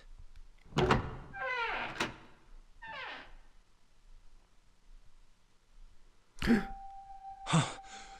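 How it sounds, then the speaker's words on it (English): A heavy door opens in the Zero Escape 999 video game, with a sharp mechanical clunk and a sliding rumble late on, followed by a sustained tone and a second thud, after some sighs and breathy vocal sounds. "Only one door. There isn't anything else. It's the only way to go. All right, let's open it."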